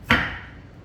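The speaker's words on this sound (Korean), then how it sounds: "이렇게 칼집, 십자로 칼집을 두셔서 또 송송송 썰어 보겠습니다." A single crisp knife chop strikes a cutting board while scallions are sliced, one sharp near thud with a brief ringing tail and nothing else around it.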